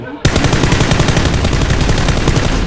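Sustained automatic gunfire in a video game battle, a loud rapid stream of evenly spaced shots that bursts in abruptly and hammers on without pause.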